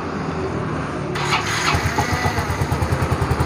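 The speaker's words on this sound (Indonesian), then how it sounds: "Nah ini ya, mesin udah hidup." A rebuilt Yamaha Mio M3 125 scooter engine cranks and catches after a quiet moment, then settles into a steady, close, rhythmic putter of a fresh idle.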